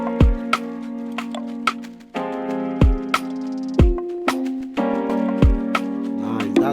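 An upbeat afropop groove with punchy kick hits and bright keyboard chords, their echoes repeating in a bouncy rhythm; purely instrumental, no voices.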